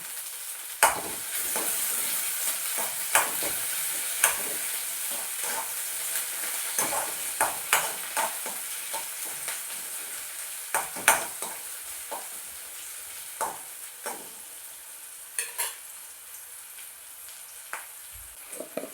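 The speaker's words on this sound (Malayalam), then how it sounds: "അതിലേക്ക് കുറച്ച് കറിവേപ്പില ഇട്ട് കൊടുക്കുന്നുണ്ട് കേട്ടോ" Curry leaves crackling in hot oil with crushed shallots, a steady hiss punctuated by frequent sharp pops and spatters, close up and with no talking.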